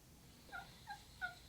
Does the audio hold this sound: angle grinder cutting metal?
no